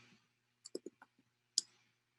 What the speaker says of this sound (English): Again, my typing speed is impeccable.